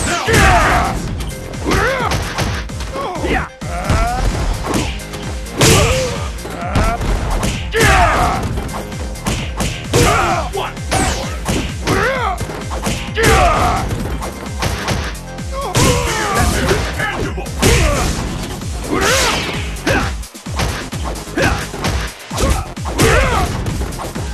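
Punches and hits landing in the fighting game Street Fighter IV, a match between Dudley and Balrog, with repeated sharp smacks and thuds in irregular bursts over game music and announcer calls.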